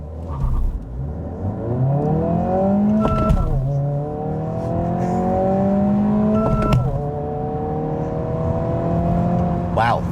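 A 2025 Honda Civic Si accelerates hard from a standstill to 60 mph, its engine note climbing steadily through the revs with two brief pauses for gear shifts, loud and close from inside the cabin.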